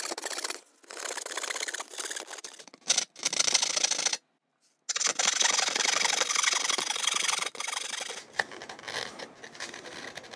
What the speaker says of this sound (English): Cutting the F hole with a knife here will also force you to learn to go with the flow in the wood